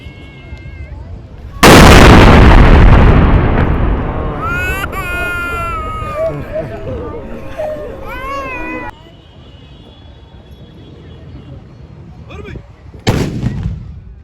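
A Ramadan cannon in Qatar fires once with a huge, deep boom that rolls on and slowly fades, followed by crowd noise and voices and a second sharp burst near the end.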